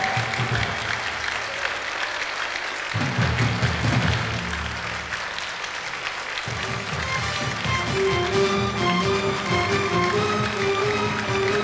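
Audience applause greets a singer at a 1997 concert tribute, a steady, dense wash of clapping through the whole stretch with music-like tones rising underneath toward the end.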